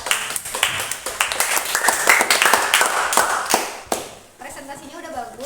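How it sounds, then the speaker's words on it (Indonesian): Students in a chemistry class clap for the groups that presented their titration lab results, a dense patter of hand claps that stops and gives way to a teacher's voice. "Beri tepuk tangan dulu dong buat kalian."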